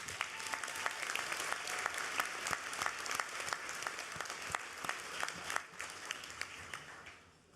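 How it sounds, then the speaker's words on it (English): A convention audience at the 2022 Community Action annual convention applauds, with many hands clapping and sharp individual claps standing out, holding steady before fading away at the close. "Please give Community Action a round of applause"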